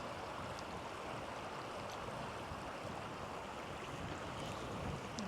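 A forest stream flows steadily where a pipeline runs straight through the water, giving an even, unbroken wash of rushing water with no voices.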